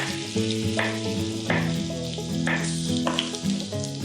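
Garlic rings sizzle and fry in butter in a pan for shrimp, a steady close crackle with no talking.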